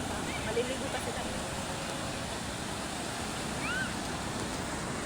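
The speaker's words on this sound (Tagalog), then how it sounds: "Lakas ng alon talaga." Strong ocean waves break on a crowded public beach, a constant roaring surf wash under wind, with faint distant voices and a brief whistle-like tone.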